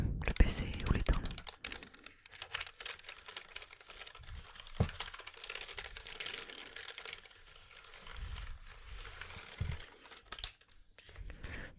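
Soft keystrokes tap out on a computer keyboard the owner has had for several years, a quiet, close run of irregular clicks and clatter that pauses now and then, with faint whispering mixed in.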